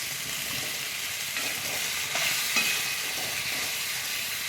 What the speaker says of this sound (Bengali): এবারে ফুটে গেছে, আমি পনিরগুলো দিয়ে দিচ্ছি।